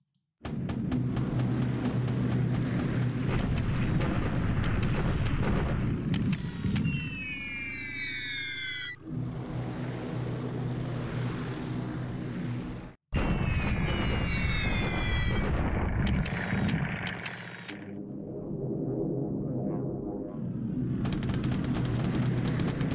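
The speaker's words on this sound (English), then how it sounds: "Got some Nates coming in for strafing." Dense, continuous machine-gun fire from strafing aircraft in the video game War in the Pacific, loud and sustained with brief breaks, along with rising whistling and siren-like tones.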